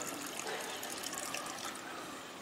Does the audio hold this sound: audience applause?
no